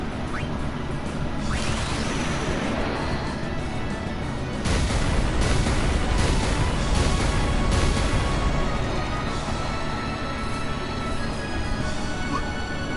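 Grenades used in battle in Final Fantasy X set off heavy booming blasts over a dense game soundtrack, with several loud impacts clustered together midway through.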